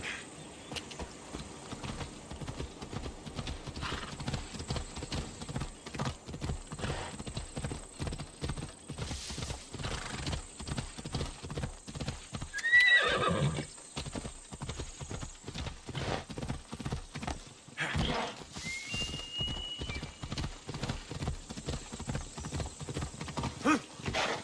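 Horse galloping in Assassin's Creed Odyssey, a steady rapid clip-clop of hooves running the whole time, loud and close, with a whinny partway through and brief game effects layered over it.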